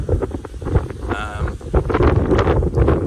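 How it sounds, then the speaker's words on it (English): Gusty wind buffets the microphone with a low, uneven rumble that continues throughout, loud and close. "A bit windy today."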